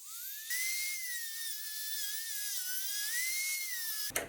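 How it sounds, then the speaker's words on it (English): A rotary tool cuts through the hardened steel jaws of a digital caliper with a high, close, continuous whine. The pitch wavers slightly as the load changes, and the tool is switched off with a brief clatter at the end. "I'll use a rotary tool to cut off the jaws"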